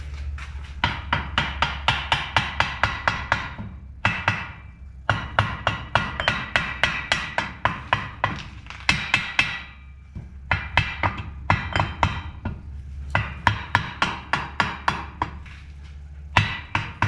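A hammer strikes metal repeatedly during a drive shaft installation, with loud, sharp blows in fast rhythmic runs broken by brief pauses, close and without talk.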